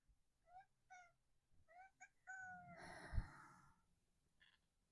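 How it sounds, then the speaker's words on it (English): A house cat lets out several short, faint meows in quick succession indoors, then a longer, louder drawn-out yowl with a thump, followed by one more quiet mew. "cat."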